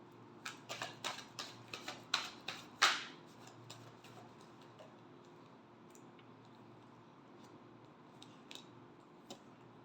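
A deck of tarot cards is riffled and tapped in a quick series of crisp, close snaps for about three seconds, then a quiet room tone follows with a couple of faint card taps.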